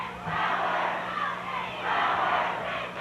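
Crowd noise fills the stands at a Warren High School football game, a steady roar of many voices with swelling cheers and shouts, loud and continuous.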